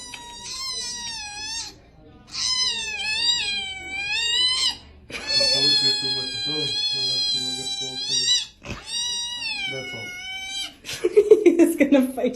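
A kitten at the vet wails and yowls in long, drawn-out, distressed meows, several loud close cries in a row ending in rough, broken squalls, with a voice also speaking.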